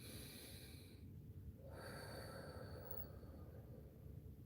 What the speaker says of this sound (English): on the count of 3, guys, we're going to take our deep breath